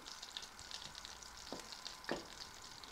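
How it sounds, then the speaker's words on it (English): Butter melting in a pan for a mac and cheese dish gives a soft, steady sizzle and faint crackle, with a couple of brief louder pops or stirring scrapes near the middle and end. "Toss in the butter. Gonna melt that butter."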